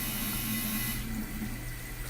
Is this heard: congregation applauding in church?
no